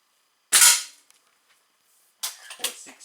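A Czech-made Slavia 630 .177 (4.5 mm) air rifle fires with a sharp, loud crack that decays quickly, followed after a pause by a second cluster of sharp snapping bursts, with silence in between.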